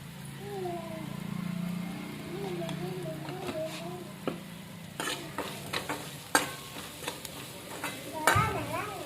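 Egg curry masala stirred in a pan with turmeric and spices, a steady low sizzle running throughout with scraping and clinking strokes of a spoon that grow sharper and louder toward the end.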